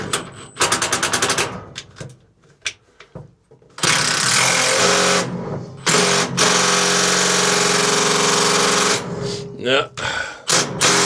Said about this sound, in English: let's try this old Makita. This is old. This is an old machine.